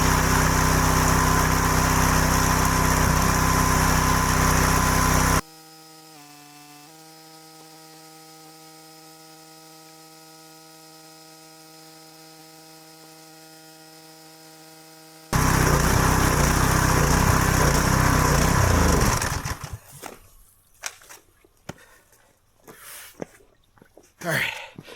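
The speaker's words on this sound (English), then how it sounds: "I'm just going to soak the frame down, pressure wash it one more time" A pressure washer blasts degreaser onto a turbo S10 truck frame outdoors in freezing weather: loud, steady, hissing spray in two long runs separated by a droning hum, then sparse clatter and some speech at the end.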